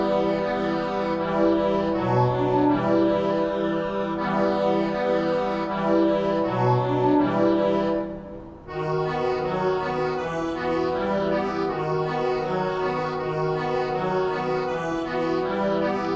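Free-bass accordion sound played back in MuseScore notation software, a sustained chordal melody with bass notes, steady and alone, with a brief pause near the middle.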